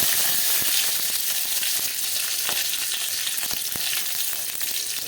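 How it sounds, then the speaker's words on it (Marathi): Garlic and curry leaves sizzling in hot oil, a loud, steady close-up crackle and hiss with scattered sharp pops throughout, no voices. "मित्रांनो तेल तापलं आहे. त्यामध्ये टाकू आपण लसूण, कढीपत्ता"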